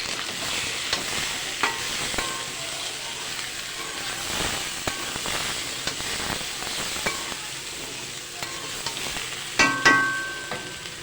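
Potato curry with cumin tempering being stirred and fried in a pan: a steady hiss of sizzling oil with repeated spatula scrapes and light taps, louder at the end.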